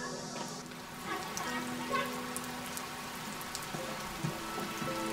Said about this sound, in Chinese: 下雨呢，你小心点儿。